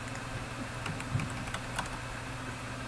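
Someone types on a computer keyboard. The key clicks are faint and irregular over a steady background hum.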